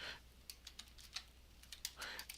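Numbers are typed on a computer keyboard into a spreadsheet, the keys clicking in quick irregular bursts of close, crisp taps with short pauses between groups, no voice over them.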